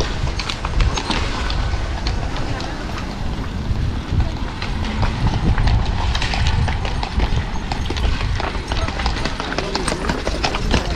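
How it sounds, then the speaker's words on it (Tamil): A horse's hooves clip-clop on a road in Egypt, a steady rhythmic stream of hoof strikes over wind noise and outdoor ambience, with talking heard along with it. "குதிரை பாருங்கள், கீழே இறங்க முடியல,"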